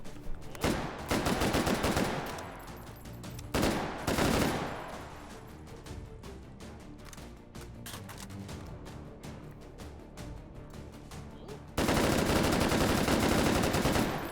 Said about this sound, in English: Did this gun ever fire this fast before?